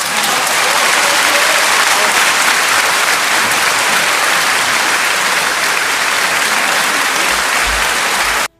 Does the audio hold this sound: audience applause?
yes